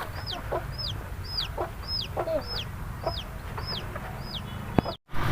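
A brooding hen sitting on her eggs on a poultry farm in Deoli, Chalisgaon, gives about nine soft, evenly spaced clucks close by, over quiet background noise, with a brief dropout near the end.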